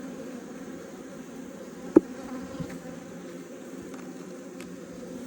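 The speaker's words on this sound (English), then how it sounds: "Checking out some bees," A steady low hum of honeybees during a hive inspection. One sharp click partway through breaks the even drone.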